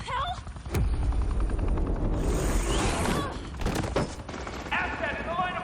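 Gunfire in the video game Batman Telltale Season 2 cracks out as a loud sharp shot followed by a dense rattling volley of rapid fire and booms, with a few voices heard near the end.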